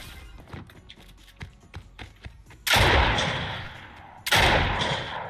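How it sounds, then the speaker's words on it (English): Gunfire in the Fortnite prop hunt game: a string of light popping shots, then two loud, sustained bursts of close gunfire that fade out slowly. "Freeza's shooting everything."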